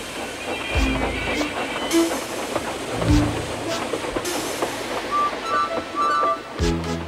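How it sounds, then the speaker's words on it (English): A Trainz video-game steam engine pulls a line of coaches, with rhythmic clickety-clack of wheels, puffing and occasional whistle-like tones, heard steadily at moderate loudness and mixed with soft narration-like background. "The first coach moving helped to start the second, and the second helped the third."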